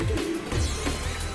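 Soft, low coos of a racing pigeon in a brief burst, close by, with no talking.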